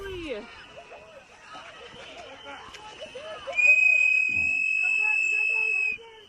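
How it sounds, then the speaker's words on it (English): A sustained, steady, high whistle from a video played back begins partway through and holds for about two and a half seconds, over soft background chatter and voices. "I probably could AI out the whistling, which is funny."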